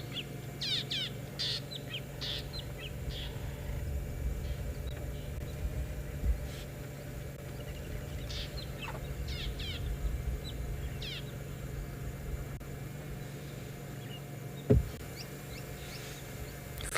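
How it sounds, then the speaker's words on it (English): Starlings calling close by on an afternoon South African safari, short bright chirps and whistles in scattered bursts over a faint steady hum of insects and outdoor ambience, with one sharp knock near the end. "Probably the starlings are the most distinct because they're almost right next to me."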